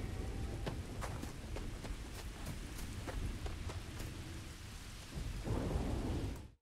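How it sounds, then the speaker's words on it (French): Rain and thunder in the video game Starfield: steady rainfall hisses throughout with repeated thunder cracks and rumbles, swelling louder near the end, with no voices. "Parce que là il pleut et tout ça, il fait un peu plus sombre."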